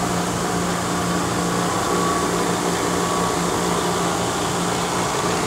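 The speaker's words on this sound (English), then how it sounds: "There's the Alcatel vacuum pump attached." Refurbished Alcatel vacuum pump attached to a YES LP3 HMDS vapor prime oven, running with a steady broadband mechanical hiss and a faint low hum, constant and unchanging with no voices.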